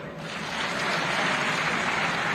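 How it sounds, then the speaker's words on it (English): Sustained crowd applause from an audience at a councillors and local government meeting at Mulungushi International Conference Centre, a dense continuous wash of clapping that swells slightly and holds steady throughout. "Clap for her."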